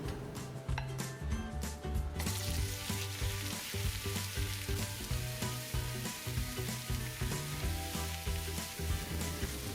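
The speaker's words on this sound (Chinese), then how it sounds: "再把剁好的鸡翅放进去翻炒一下" Chopped chicken wings stir-fry in hot oil in a wok over medium heat, a loud continuous sizzle with rhythmic scraping and clanking of the spatula against the pan, no voices.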